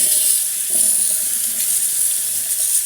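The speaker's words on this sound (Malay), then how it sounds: "Bersihkan dengan air." Tap water runs steadily over freshly gutted fish being rinsed clean in a kitchen sink, a continuous close hiss and splash with no talking.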